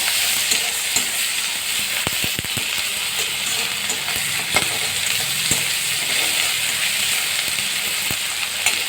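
Hand-ground ginger-garlic paste fries in a pan for a prawn curry, with a continuous close hissing sizzle and sharp clicks of a utensil stirring throughout.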